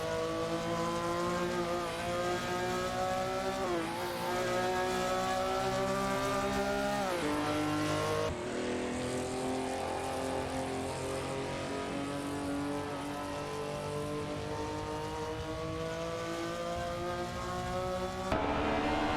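In a racing video game, a Porsche 911 Carrera RSR3 and a Chevrolet Corvette C3 scream along, engines droning steadily with pitch dips on gear shifts and braking, loud and continuous.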